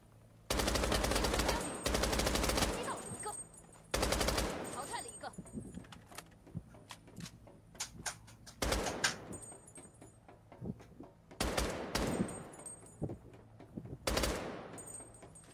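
Bursts of submachine-gun fire in a video game, several loud rapid volleys separated by pauses, with quieter clicks and handling sounds in between.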